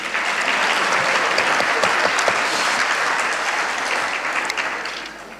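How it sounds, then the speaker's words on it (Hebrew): A crowd at a youth Bible quiz event claps steadily, a dense, loud wash of applause that holds for several seconds before tapering off slightly. "זה קטע של מחיאות כפיים."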